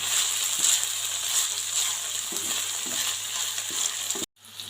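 Shrimp fry in a pan with sauce while being stirred, a steady close sizzle broken by a few soft scraping knocks of the spoon, then a brief dropout near the end before the hiss resumes.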